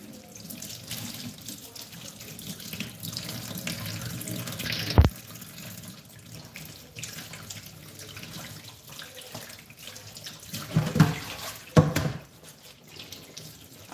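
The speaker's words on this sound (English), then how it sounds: "I'm washing the pineapple." Tap water pours steadily into a sink as a pineapple is rinsed under it, a continuous splashing stream with a few louder knocks and splashes partway through and no talking.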